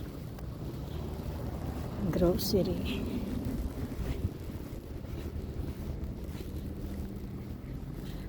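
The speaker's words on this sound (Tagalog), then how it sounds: "Ayoko lang yung hangin." Cold wind blows during a winter snowfall on a street, a continuous low rumbling buffet against the microphone that runs the whole time, with someone talking over it.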